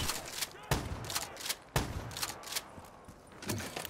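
Shotgun blasts in Black Ops 3 Zombies, several sharp booming shots fired in quick irregular succession close up, with game noise in the background.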